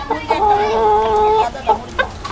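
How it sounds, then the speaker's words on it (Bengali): Hens and a rooster cluck close by in a series of short calls, one drawn-out cluck in the middle and brief ones after it, with no talking over them. "এইখানে যে এটা মুরগি, ওটা মোরগ"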